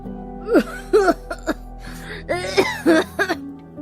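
A man coughs and clears his throat repeatedly from dust in rough, hacking bursts, close and loud, over a low steady background hum.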